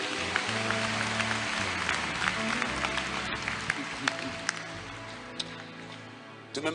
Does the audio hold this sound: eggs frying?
no